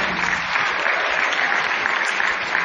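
A crowd claps in a steady, dense burst of applause at a speaking event, loud and continuous with no talk over it.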